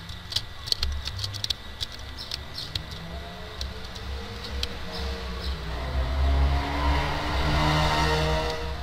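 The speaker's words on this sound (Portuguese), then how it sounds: "E olha o carro passando." A car passing in a Hunger Games–style Minecraft match, its engine rising from a low drone into a louder revving sweep toward the end, with clicky ticking in the background.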